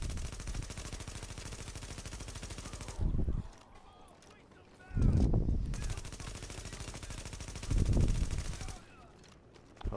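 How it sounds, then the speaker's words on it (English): Players trading automatic gunfire in The Division, heard as long dense bursts of rapid shots broken by short pauses, with faint voices in the gaps. "Hopefully they're shooting at each other and not agents"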